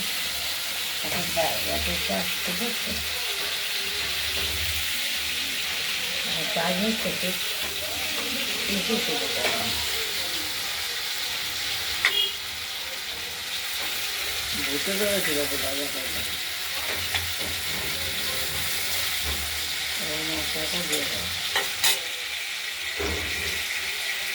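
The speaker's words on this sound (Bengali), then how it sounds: "এই টমেটোটা ভাজার সঙ্গে সঙ্গে মশলাটা আমরা দিয়ে দেবো, হলুদ মিশিয়ে।" Tomatoes fry in a pan with a constant close sizzle and a few small clicks and scrapes, while a person talks over much of it.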